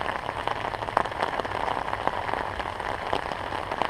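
Rain falls on a surface outdoors with bees active nearby, giving a steady, dense patter of drops with occasional louder individual hits, alone and without talk.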